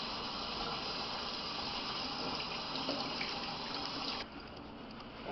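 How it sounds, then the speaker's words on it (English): Beef back ribs rinsed under a running kitchen tap, a steady close rush of water that shifts slightly in tone near the end as the flow changes. "first thing we'll do is give them a little rinse."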